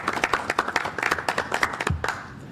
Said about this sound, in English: if we can give them a round of applause, I think it'd be great.